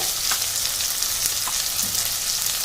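Chopped tomato fries and gets stirred in a hot pan while cooking biryani, giving a steady, close sizzle with a continuous frying hiss and no voices.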